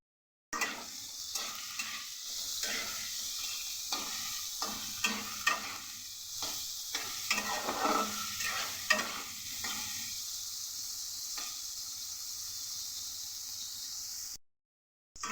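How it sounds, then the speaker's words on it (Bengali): Bitter gourd frying in a pan with salt and turmeric, a steady close sizzle with stirring scrapes that runs for about fourteen seconds before cutting off, no voices. "সামান্য পরিমাণে একটু নুন আর একটুখানি হলুদ দিয়ে ভালো করে ভেজে নেব"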